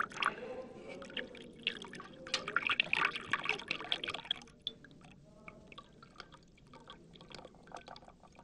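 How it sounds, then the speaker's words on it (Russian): Tea is poured into a cup, a bright splashing stream for about four seconds that then tapers into a softer, thinner trickle with scattered drips, close by. "Чай наливай."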